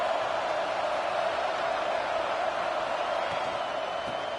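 Steady roaring crowd noise fills a college football stadium in a video game, a dense, even wall of sound with no breaks.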